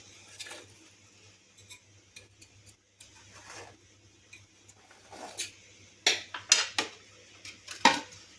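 Quiet scraping and light metallic ticks as a knife runs around the edges of a semolina wheat cake in its baking tin, then sharper clinks and taps near the end over a low steady hum.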